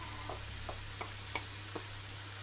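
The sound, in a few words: carrots frying with onions and minced meat for lasagne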